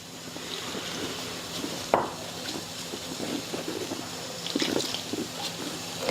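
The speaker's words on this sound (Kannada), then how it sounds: "ಈಗ ಇದಕ್ಕೆ ಸ್ವಲ್ಪ ನೀರು ಹಾಕ್ಕೊಂಡು ಹಿಟ್ಟು ನಾದ್ಕೋತೀನಿ ನೋಡ್ರಿ." Water is poured into wheat flour in a kitchen to knead paratha dough, a soft trickle and splash with a few wet clicks and dull knocks from the bowl, close and fairly quiet.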